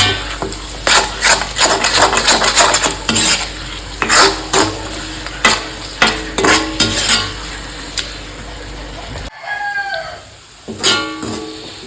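Spices crackling and spluttering in hot oil while tuna pickle is prepared, a steady run of sharp popping bursts for about nine seconds, then a brief quieter stir before the sizzle resumes.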